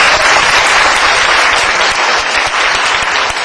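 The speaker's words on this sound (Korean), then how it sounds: "다시 한번 박수 부탁드립니다." Dense, steady applause from a large audience at an award ceremony for a university debate competition final, loud and continuous throughout with no voices on top.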